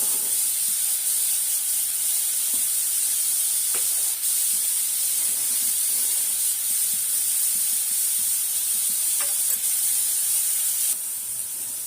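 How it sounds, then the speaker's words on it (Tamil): Steady bubbling and sizzling hiss from a pot of garlic kuzhambu (curry), continuous and fairly loud throughout, with a few faint clicks and knocks in the background. "அந்த பக்கம் குழம்பு கொதிக்குது."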